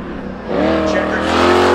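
Race cars rumble at a speedway, including a 2024 Toyota, with a loud engine note swelling and revving as a car accelerates past, while a commentator talks over it.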